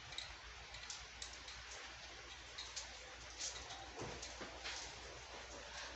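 Steady rain falls in an even, moderately quiet hiss, with faint scattered drops and ticks on a surface and no voices.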